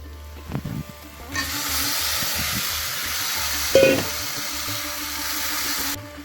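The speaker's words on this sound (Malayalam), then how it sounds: "നമുക്കിതിലേക്ക് ചിക്കൻ ഇട്ട് കൊടുക്കാം." Chicken pieces drop into a hot pan of chilli paste and chicken masala, setting off a loud, steady hiss and sizzle that starts abruptly and holds for several seconds before cutting off, with faint clatter before it.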